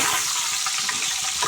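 Leaves sizzling and frying in a pan for bitter gourd chili powder, a short, steady, close hiss of hot oil with faint stirring and no voices.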